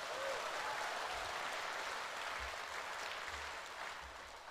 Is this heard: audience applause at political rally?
yes